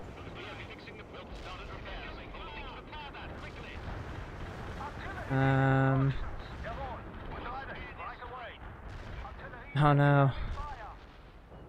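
Two artillery shells burst in the real-time strategy game World in Conflict: Soviet Assault, each a heavy booming impact with a ringing tail, set several seconds apart over continuous battle noise. A voice speaks briefly between them.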